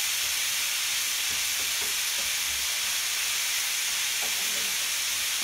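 Beef mince with chopped onion fries in a single pan for keema, giving a steady, even hiss and sizzle throughout, with faint scraping as the meat is broken up.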